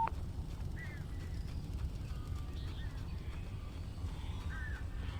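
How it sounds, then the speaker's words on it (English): Crows caw several times in the video game Alan Wake, faint and somewhat distant over a steady low ambient rumble. "Oh, that is a lot of birds."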